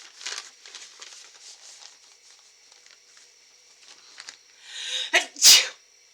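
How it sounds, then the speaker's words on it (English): A single loud sneeze bursts out near the end after a stretch of soft rustling and tapping. "I have been waiting for that sneeze for 5 minutes."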